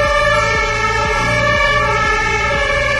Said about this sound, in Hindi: कहीं पे आग लग गई है, फायर ब्रिगेड जा रही है।